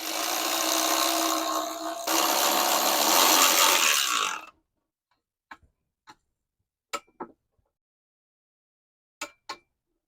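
A 14mm bolt on a Mitsubishi Montero automatic transmission is tightened with a dense, loud tool burst lasting several seconds. A handful of sharp, separate ratchet clicks follows in the quiet.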